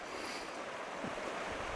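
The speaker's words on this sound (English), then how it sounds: "It's a nice fast water up through here." Fast-flowing water of the Leven River, a broad continuous rushing wash heard outdoors with some wind buffeting the microphone, steady and moderately loud with no talk.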